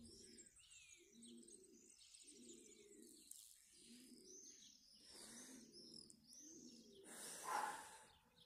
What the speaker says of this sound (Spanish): Ahí va la tórtola, mira cómo trastea y todo.